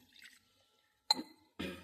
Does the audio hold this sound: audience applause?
no